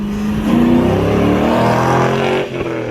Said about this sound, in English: here comes the 1997 Pontiac Firebird Formula W S6, a car that mixes muscle with mind-blowing handling